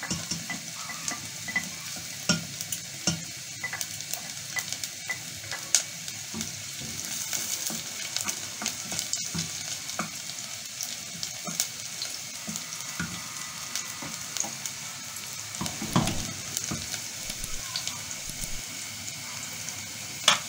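Garlic frying in a pan while preparing ful medames, a steady close sizzle and crackle with occasional stirring clinks running unbroken throughout.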